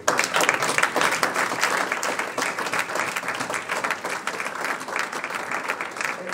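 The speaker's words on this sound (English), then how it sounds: "Let's ask the brothers to give the family and parents a round of applause." A round of applause from an audience at a family and parents gathering, dense steady clapping that holds at a constant loud level for the whole stretch with no voices over it.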